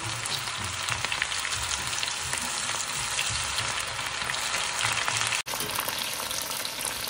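Kalan pakoda batter deep frying in a pan of hot oil at a roadside stall, a steady dense crackling sizzle that runs continuously, with one abrupt brief dropout near the end before the frying resumes.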